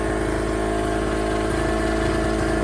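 A small square 0.7 kW generator engine runs steadily at constant speed, a close, loud, even drone with a rapid pulsing throb and no pauses.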